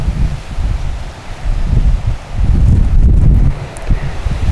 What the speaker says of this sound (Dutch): Dat je de wind voelt op je huid en dat je de bomen hoort waaien.